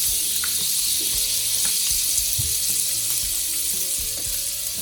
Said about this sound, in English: Now I'm going to add butter to the pan.